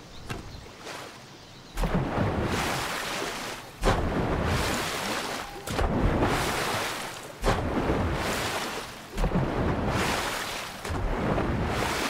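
Heavy storm thunder from the video game Fortnite rolls in long, loud surges, each lasting a couple of seconds, with brief sharp breaks between them and no voices.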